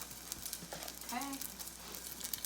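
Plant-based dough cooks in a pan with a faint, steady sizzle, broken by a few brief, slightly louder sounds.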